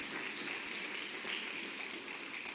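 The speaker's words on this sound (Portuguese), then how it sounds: "Uma salva de palmas ao Senhor" A church congregation gives sustained applause, a steady dense wash of clapping lasting throughout without pause or voices.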